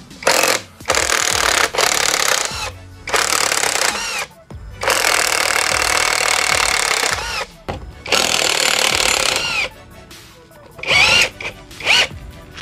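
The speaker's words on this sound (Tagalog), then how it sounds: "pwede na nating tanggalin tong 4 na bolt na to. Ang sukat na ito mga boss is 13mm." Loud bursts of a power tool, likely an impact wrench, removing four 13mm bolts from a motorcycle rear sprocket, coming in several long runs with short pauses between and a few quick final bursts.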